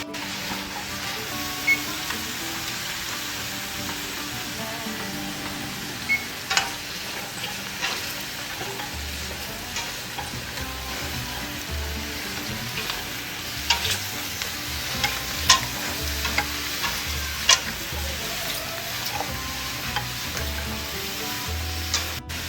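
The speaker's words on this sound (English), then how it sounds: "with our onions cooked and translucent, we're going to add our mushrooms and cook another 8 minutes." Mushrooms and onions cooking in a pot over medium-high heat, a steady close sizzle with repeated scraping and clinking stirs scattered throughout, no talking.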